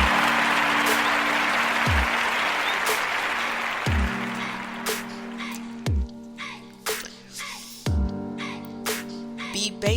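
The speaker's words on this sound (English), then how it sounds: "We gonna clap for that." Talk show audience applauding for several seconds, a dense wash of clapping that fades out and gives way to a few sharp thumps.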